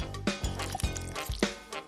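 Water is poured into a pot for making oatmeal, giving a few close, gurgling splashes and drips in uneven bursts, with no one speaking.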